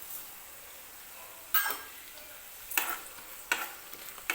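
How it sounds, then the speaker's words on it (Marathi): Urad dal and onion roasting in oil give a faint, low frying hiss, with a few sharp stirring scrapes of a spoon in the pan at irregular intervals, no talking. "तर एका बाजूला ह्या डाळी सुद्धा मी छान अशा तेलामध्ये भाजून घेते।"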